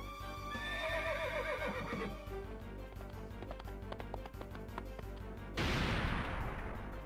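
A horse whinnies loudly with a shaky, trembling pitch in the video game Sakura Wars 5, followed by scattered clattering knocks and then a sudden roaring cannon blast near the end; no one speaks.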